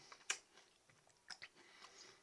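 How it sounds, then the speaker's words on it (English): A person chewing and biting food close up, with soft crunchy mouth sounds and one sharper bite near the start, scattered irregularly through an otherwise quiet stretch. "Sometimes it can be annoying hearing somebody chewing"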